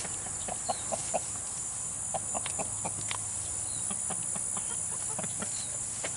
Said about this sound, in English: She's got the chickens a little stirred up in the weeds here.